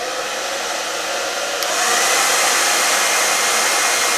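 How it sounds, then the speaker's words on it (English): A hair dryer on its cool setting, powered from a portable power station, blows with a steady, loud broadband whoosh that steps up in strength partway through and then holds constant. "Let's go ahead and plug back in the hair dryer."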